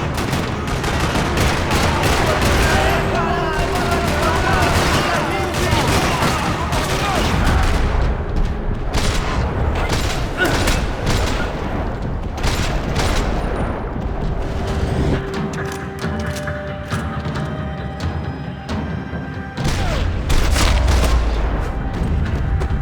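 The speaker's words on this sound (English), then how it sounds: "Another parking lot rattling with gunfire." Sustained gunfire rattles through a parking lot in Max Payne 3, dense volleys of shots and booming impacts overlapping at close, loud range, with a voice briefly speaking amid the shooting.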